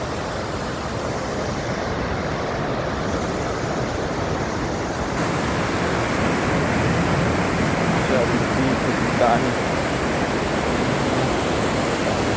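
A strong waterfall at a camping site in Norway roars in a dense, unbroken wash of noise that swells a little louder midway, with no clear voices over it.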